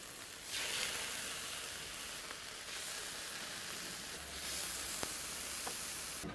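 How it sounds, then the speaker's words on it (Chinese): Chicken legs and chicken cutlets frying in a pan, giving a soft, continuous sizzling hiss with a slight swell partway through, fairly quiet and without voices. "每面煎两分钟的样子就可以了。"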